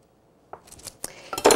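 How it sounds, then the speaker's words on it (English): A knife cuts Danish pastry dough into pieces, giving a few sharp clicks and clinks of metal against a board after a silent start, ending in a louder scraping knock, close and without voices. "Then I'm going to cut it into 4 pieces."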